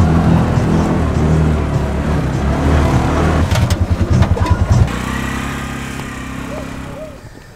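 A car climbs a bumpy, potholed road, its engine rumbling loudly up close with a run of rapid jolting thumps from the rough surface before easing off, and a voice can be heard over it.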